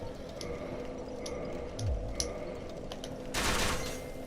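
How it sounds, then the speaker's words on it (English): A rapid-fire semi-automatic Avalon crossbow shoots in a video game, a quick series of sharp clicking twangs spaced across a few seconds, followed by a brief noisy burst, with no talk. "So like that is rapid fire, semi-automatic crossbow."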